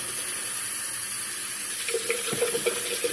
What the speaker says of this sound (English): Excuse me, I'm gonna turn the water on for a second.